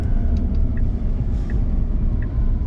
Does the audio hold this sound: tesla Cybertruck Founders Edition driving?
yes